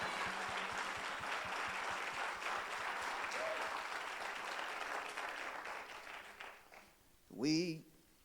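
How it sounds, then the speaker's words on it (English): Church congregation clapping, a dense wash of applause that holds for several seconds and then thins out, followed by a brief loud voice near the end. "You got a bigger clap than that."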